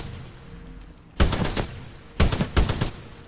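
Weapon fire at a shooting range in the Titanfall 2 training course, with two close, sharp bursts of rapid shots and a short pause between them.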